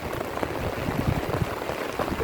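Heavy rain falls steadily outdoors in a week of rainy weather, a dense, even hiss of drops pattering on surfaces close by, with no pauses and no voices.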